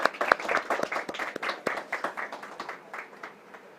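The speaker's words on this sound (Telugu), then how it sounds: "డాక్టర్ ఒలివా మార్గరెట్ తన సాక్ష్యాన్ని చెప్తారు మన చప్పట్లతో ఆహ్వానిద్దాం" A congregation at a church graduation celebration claps to welcome Dr. Oliva Margaret, a brisk run of separate, fairly close hand claps that gradually thins and softens toward the end.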